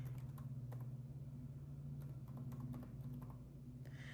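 Fingers tap out a short burst of keystrokes on a computer keyboard, quiet clicks scattered irregularly over a steady low hum. The clicks sound faint and close, with no voices.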